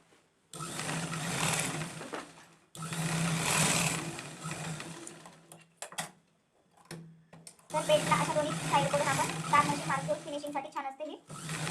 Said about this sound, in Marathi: हाफ शिलाई मारून घेऊ कटोरीच्या साईड क्रॉस पट्टीला